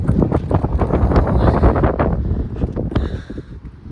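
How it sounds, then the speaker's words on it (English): Strong wind gusts across a microphone outdoors at Galveston State Park on the Texas coast, roaring and buffeting in uneven surges before easing toward the end. "But yeah, it is windy out here."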